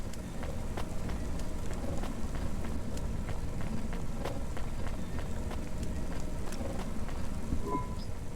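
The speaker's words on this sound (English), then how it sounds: "This game is making me cold, what with all the rain all the time." Constant rain in the video game Cloudpunk, a dense, even hiss of falling water with scattered tapping drops that never lets up.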